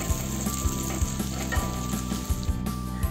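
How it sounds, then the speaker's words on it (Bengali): Sliced onions sizzle and fry steadily in a pan with bay leaf, cardamom and cloves, a continuous close crackle with soft periodic stirring knocks and no voices. "পেঁয়াজগুলো দিয়ে কিছুক্ষণ ভালো করে ভেজে নেব"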